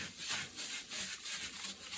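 Wood-stove glass being wiped with a wet kitchen towel dipped in ash gives a steady back-and-forth rubbing, a rhythmic scrubbing swish repeating about every quarter second, close and moderately quiet, with no talking.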